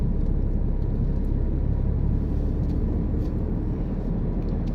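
A car engine hums steadily and loudly at road speed, a continuous low rumble that rises gently with acceleration while changing up into fifth gear on an open road, heard alone without talk.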